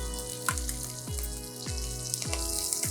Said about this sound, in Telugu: ఇప్పుడు ఉల్లిపాయలు వేస్తున్నాను